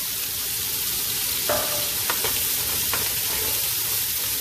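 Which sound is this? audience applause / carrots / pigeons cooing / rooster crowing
carrots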